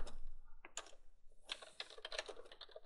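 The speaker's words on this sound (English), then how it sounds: "Now we can type in select" Rapid clicking of typing on a computer keyboard, close and fairly quiet, with short irregular bursts of keystrokes and a brief pause near the one-second mark, with no talking.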